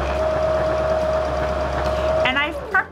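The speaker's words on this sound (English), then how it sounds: "So we're going to stitch from the top to the bottom, following that marked line." A Baby Lock Zeal sewing machine stitching a quilt row runs with a steady, loud mechanical whir and hum, then slows and stops near the end as a voice briefly speaks.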